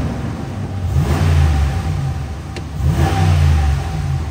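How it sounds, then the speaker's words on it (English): A 2022 Ram 1500 Classic Crew Cab 4x4 with a Hemi V8 is revved twice from idle. Each blip swells into a deep, close roar and then settles back to a low rumble. "Let's give it a couple revs."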